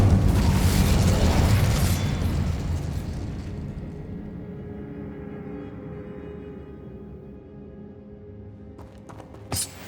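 The Incendio fire spell bursts in Hogwarts Legacy on PS5 with a loud, broad explosive whoosh that swells at the start, then rumbles and fades over several seconds, ending with a small pop near the close.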